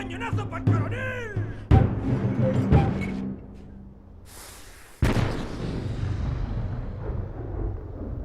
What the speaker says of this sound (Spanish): ¡Un cañonazo para el coronel!